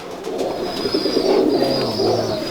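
Breeder pigeons with black feet and purple colouring coo steadily and close by, a continuous soft burbling that runs under the whole stretch.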